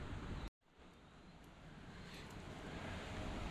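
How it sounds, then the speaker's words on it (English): Steady broadband rush of flowing water, loud and continuous, with a brief dropout near the start and no voices. "we can hear the river. Can you hear that? Wow, there's the river."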